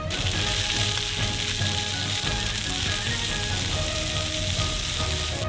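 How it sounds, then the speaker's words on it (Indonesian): Two kinds of onion sizzle and fry in a wok with sesame oil and pork, a dense, steady crackle with faint stirring scrapes throughout, close and loud, no voices. "Lalu, tambahkan 2 jenis bawang bombay, dan aduk."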